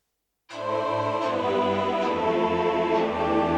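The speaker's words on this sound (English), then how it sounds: "We can take an orchestral sound like this" After a brief silence, a rich orchestral synthesizer chord from a Casio XW-P1 swells in and holds steadily, full and sustained until the end.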